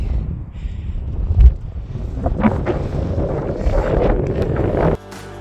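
Strong wind gusting across the microphone on Indian Trail Ridge in Colorado during a hike, a steady low roar that cuts off abruptly near the end.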